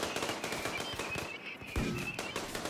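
Rapid gunfire in the video game Rimworld, a dense run of crackling shots with a tonal game hum underneath.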